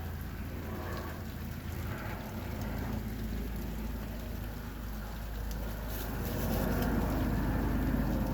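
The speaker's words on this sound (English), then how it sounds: "It is still raining." Steady heavy rainfall in a flood-prone area pours down continuously, a dense hiss of drops on surfaces with a low rumble underneath, growing slightly louder toward the end, with no talking.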